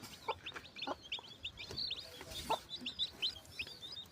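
Faint chickens clucking with high, rapid peeping of chicks scattered throughout, fairly quiet and distant.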